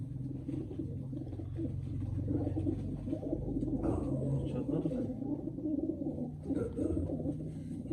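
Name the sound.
pigeon cooing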